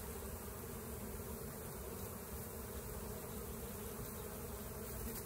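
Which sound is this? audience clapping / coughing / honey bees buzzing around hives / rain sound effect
honey bees buzzing around hives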